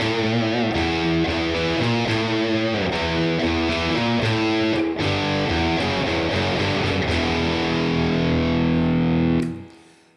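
Heavily distorted Gibson Les Paul electric guitar playing a main riff, loud chugging palm-muted notes and ringing chords in a repeating pattern, ending on a held chord that is cut off abruptly.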